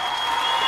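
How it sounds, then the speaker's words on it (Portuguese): A brief burst of applause added as an editing sound effect, dense, even clapping for under a second. "Vou colocar um aplauso aqui"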